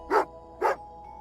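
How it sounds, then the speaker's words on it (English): Two sharp dog barks from Tugarin, an angry dog in the video game Genshin Impact, evenly spaced about half a second apart and fairly close, with quiet in between. "Oh, angry doggy."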